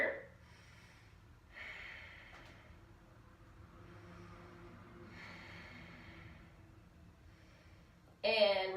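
Slow breathing during a yoga pose: soft, airy inhales and exhales in a few separate swells, quiet and close, ending in a sharper, louder breath.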